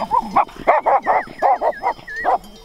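Shepherd's dogs on a Romanian sheep farm give a close, loud run of about eight rapid barks and yips in quick rhythm, with no talk.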